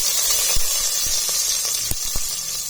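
Chopped onion sizzles in hot oil with mustard seeds and turmeric powder for a horse gram curry, a steady, loud hiss with a few scattered crackles and pops.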